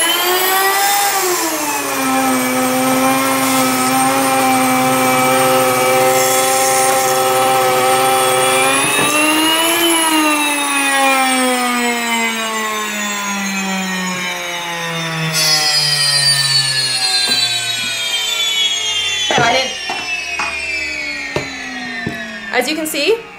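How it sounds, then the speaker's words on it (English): An electric wheat grinder mills wheat into flour with a loud, steady high-pitched motor whine and grinding roar that sweeps down in pitch as it runs, then sputters and fades toward the end, with no talk over it. "Basically with the electric grinder, it's pretty foolproof. You turn it on before you fill it."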